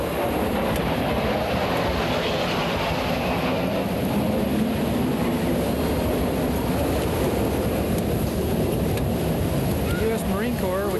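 An AV-8B Harrier jet roars steadily and loudly while flying at the 1987 Moffett airshow, a continuous broad rumble with a voice talking over it.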